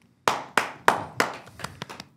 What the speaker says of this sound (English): Used to a bigger applause than that a bit.